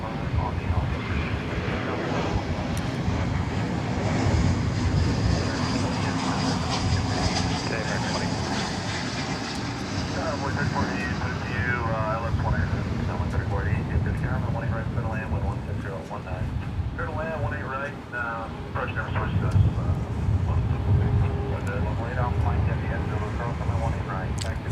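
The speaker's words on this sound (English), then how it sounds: "That was American Flight 1976 coming in from Phoenix, Arizona" American Airlines jet arriving at DFW from Phoenix, a sustained engine rumble and whoosh that dominates early and then eases, with people talking over the later part.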